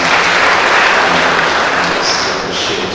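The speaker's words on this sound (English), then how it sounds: "So, we give another big clap of hands." A church congregation at a memorial celebration claps hands together, loud and close, a thick continuous patter that eases slightly toward the end with no talking.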